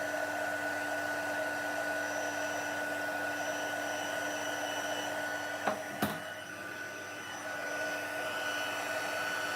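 Craft heat tool warming an embellishment on a Halloween treat holder and card until it turns shiny, a steady droning blow heard alone throughout with a couple of brief clicks midway.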